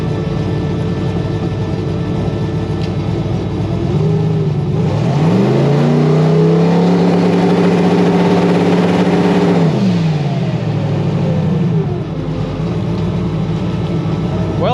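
A freshly rebuilt 5.3 LS V8 on a dyno, droning loudly at a steady idle, then swelling into a long sustained rev for several seconds before dropping back to a rough idle.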